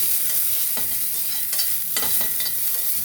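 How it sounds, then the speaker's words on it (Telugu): Mint leaves frying in a little oil for tomato peanut chutney, with a loud, close sizzle and several distinct spatula scrapes against the pan, no voices. "కొంచెం ఆయిల్ వేసి పుదీనా కూడా వేయించుకోవాలండి."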